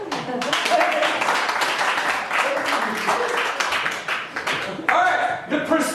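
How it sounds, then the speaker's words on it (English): A comedy-show audience breaks into applause, a dense wash of clapping that swells and holds for several seconds, with a few shouts mixed in. "Clap for this man."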